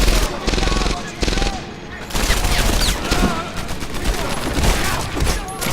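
Dense machine-gun and rifle fire rattles almost without pause in a World War II shooter, Medal of Honor: Airborne, the sustained bursts loud and close with brief dips between volleys.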